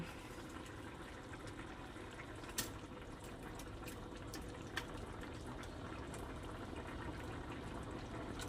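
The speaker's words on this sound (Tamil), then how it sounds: "நல்லா கொதிக்குது" A pot of curry simmers at a steady low bubble, soft and continuous, with a couple of faint clicks.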